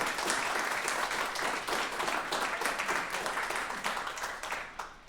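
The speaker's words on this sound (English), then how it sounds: "Let's have a round of applause for all of the volunteer coordinators too." Steady applause from a crowd at the RPG Limit Break 2023 finale rolls on continuously, moderately loud, with dense overlapping claps that taper slightly at the end.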